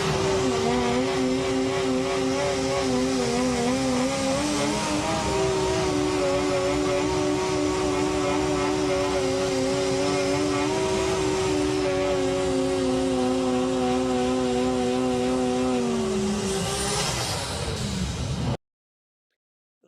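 JDM drag cars at an old-school drag meet roar with sustained high revving through a long burnout, a loud continuous engine drone that holds steady and then drops off abruptly near the end.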